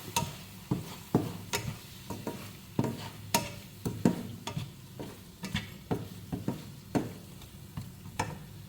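A spoon stirs and scrapes through thick bell pepper gravy in a pan, repeated clicks and scrapes at a steady pace over a soft sizzle, no talking.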